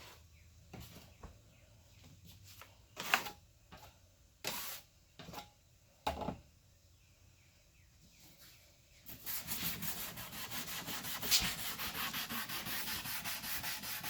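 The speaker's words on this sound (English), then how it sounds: "Even now when you're sanding with this, don't hit your grain" Wood furniture being sanded by hand during stripping: a few separate scrapes at first, then continuous brisk back-and-forth rubbing strokes, close and fairly loud, with no voices.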